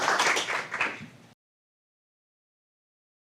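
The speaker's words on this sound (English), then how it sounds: "If we can have a round of applause for the presenters here for their excellent presentations." Audience applause for conference presenters at an agricultural conference, a dense burst of clapping lasting just over a second before cutting off abruptly into silence.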